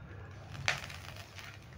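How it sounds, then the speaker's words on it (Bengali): A single dried bay leaf snapped in half by hand over a kadai, one sharp brittle crack standing out from a quiet kitchen background. "এবার ফোড়নে দিয়ে দিচ্ছি একটা তেজপাতা। আমি এটা মাঝখান থেকে ভেঙে দিচ্ছি।"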